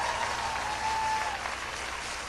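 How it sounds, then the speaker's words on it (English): Crowd applauds a carnival soca performer known as the Soca James Brown, steady clapping from many people at moderate volume, with a faint tone running beneath it and no talk. "Give him a round of applause"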